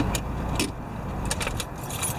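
Car keys jangle in short metallic bursts as a car is being parked, the rattles repeating over a steady low engine and road rumble inside the vehicle.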